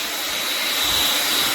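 LANDOT hair dryer brush, a one-step hot air blow dryer brush, running as a loud, steady broadband whoosh of air with a faint high whine, close and unbroken.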